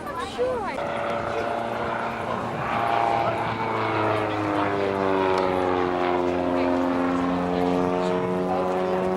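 A Scottish Aviation Bulldog propeller plane drones steadily overhead at the Southport Air Show, its engine note loud and sustained, shifting in pitch as it passes, with someone speaking over it.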